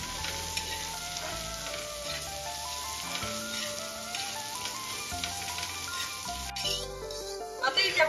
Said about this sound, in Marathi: बीट पण आपल्याला छान परतून घ्यायचं आहे थोडंसं कुक होईपर्यंत।